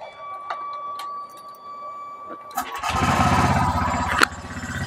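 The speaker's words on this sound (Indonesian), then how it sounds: "ini RPM idle, ada suara kletrek di bagian sini mas" A Honda Vario 150 scooter engine runs at idle with a rattling fault, starting as a faint ticking hum and then a loud, dense mechanical clatter from about three seconds on, with a sharp knock near the end.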